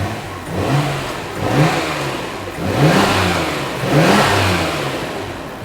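Nissan BCNR33 Skyline GT-R sports car with a catalytic converter, idling steadily and then revved freely four times in succession, each rise and fall clear and fairly close, with no talk over it.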